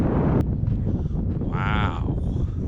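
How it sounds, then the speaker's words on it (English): Steady wind buffets the microphone at the Wright Brothers National Memorial, a constant low roar with light rustling and a few faint knocks. "because you got this wind current"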